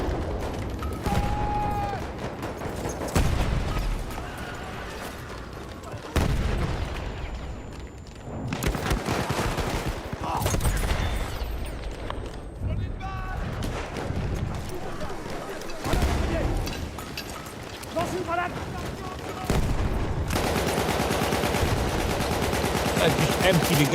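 Battlefield 1 combat with repeated bursts of machine-gun and rifle fire, heavy shots and mechanical reload clatter across a long stretch, loud throughout, with a player speaking over the action.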